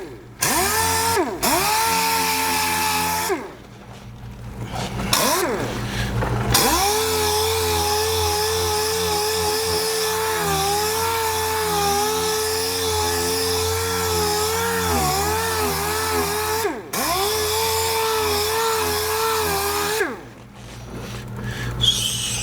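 A cheap Harbor Freight dual-action polisher whirs steadily on car clear coat, its motor humming loud and near with brief pauses where it spins down and starts again.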